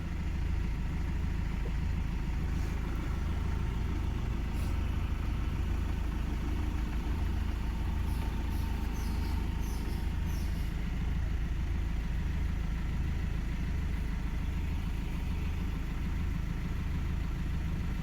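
A Tata Zest car engine runs steadily after starting, a constant low idle hum that holds through the whole stretch, with faint light clicks near the start and midway and no clear surge in revs.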